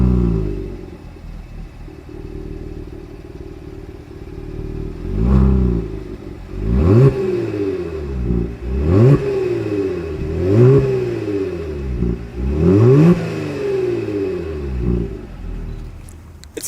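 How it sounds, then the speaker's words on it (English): Exhaust of a 2020 Genesis G70 with a 3.3-liter twin-turbo V6 and chrome tips, idling low and then revved in five or six sharp, loud blips that climb and fall back, close and alone with no talk. "As always, here is that exhaust clip."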